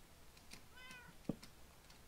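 A single short, faint cat meow from Minecraft rises briefly over a quiet background, followed by a small click, during a creeper farm build.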